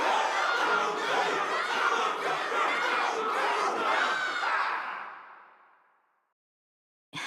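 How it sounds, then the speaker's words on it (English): A large crowd cheers and shouts in unison at an event in the game Honkai Star Rail, loud and dense for about five seconds before fading out into silence. "Can't you hear? Everyone's cheering for you, Luca."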